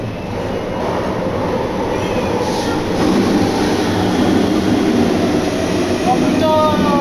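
A Paris RER train running through the underground Châtelet-Les Halles station, a loud, steady rumble and clatter of cars with a thin squeal of wheels near the end.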